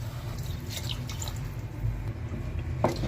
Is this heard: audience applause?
no